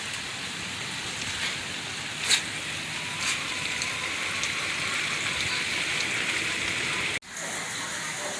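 Steady rain patters on surfaces outdoors, a dense, even hiss that runs loud and unbroken for several seconds, has a couple of brief knocks, and cuts off abruptly near the end.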